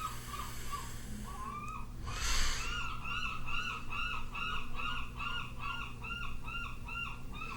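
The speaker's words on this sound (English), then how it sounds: "We've got a lot of seagulls here where I live." Many gulls calling repeatedly, their short yelping cries overlapping in a rapid rhythm at moderate distance over a steady background hum.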